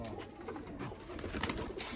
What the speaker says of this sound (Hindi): सियालकोटी दोस्तों अली वाले कबूतर